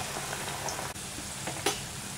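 Masala vada frying in hot oil over a medium flame, a steady close bubbling sizzle with a brief crackling burst near the end, with no talk.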